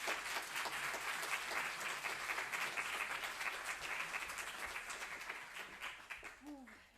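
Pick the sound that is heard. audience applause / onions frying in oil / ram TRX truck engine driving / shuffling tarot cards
audience applause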